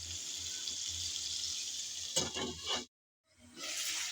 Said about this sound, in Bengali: আমি এখানে টমেটো কাঁচামরিচ পেঁয়াজ সব করে সবগুলো ভালোভাবে কষিয়ে নিচ্ছি